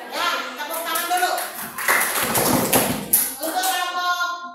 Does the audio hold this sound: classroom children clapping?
yes